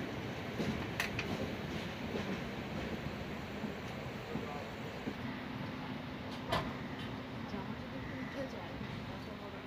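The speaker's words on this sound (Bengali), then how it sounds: "এখন 3টে বাজে আর ট্রেন চেন্নাই সেন্ট্রাল ঢুকছে" The Howrah–Chennai Mail 12839 pulls into Chennai Central at 3 a.m. with a steady low rumble, occasional sharp clanks and murmuring voices in the background.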